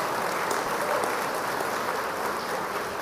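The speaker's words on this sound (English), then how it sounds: "a big round of applause for Anna" Business audience at a Chamber of Commerce meeting claps for Ana Kasparian, a steady, fairly loud wash of many hands that continues evenly from start to finish.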